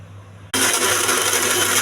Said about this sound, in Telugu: మూత పెట్టి మిక్సీ వేసుకోవాలి.